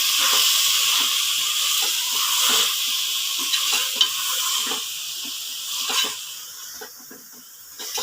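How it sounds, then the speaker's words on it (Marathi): Rice and mixed dal being stirred in a pan over heat, a steady sizzling hiss with scraping stirs scattered throughout, close and continuous with no talking. "आता हे छान मिक्स करायचं आहे आपल्याला"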